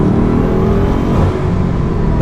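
Steady, loud engine roar and whir from inside a Bugatti Chiron hypercar, its W16 quad-turbo engine pulling hard under acceleration with a faint rising tone and no talk.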